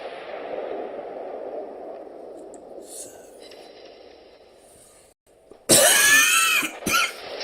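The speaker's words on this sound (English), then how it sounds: "it's probably not nice hearing me cough over this audio" A person coughs loudly and harshly in two close bursts near the microphone, cutting in over a steady low rumble of naval gunfire game sounds.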